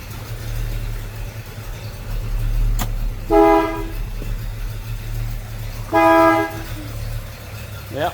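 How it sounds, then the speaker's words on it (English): Two loud honks from the horn of a 1964 1/2 Ford Mustang coupe with a 289 V8, each lasting under a second, sounding a few seconds apart over a steady idling engine rumble. "Yeah, horn works."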